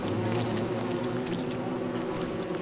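Bees buzz continuously in the video game Don't Starve Together, a dense, droning insect hum that stays loud and steady throughout, with no talking.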